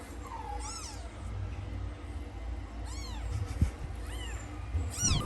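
Several high, thin kitten meows come in overlapping bursts over a low background hum, some close and some a little farther off.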